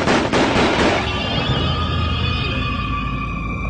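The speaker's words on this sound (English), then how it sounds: "A short time later, gunshots ring out from the schoolhouse." Gunshots ring out from a schoolhouse: a loud cluster of sharp cracks in the first second, followed by a long echoing rumble that fades out.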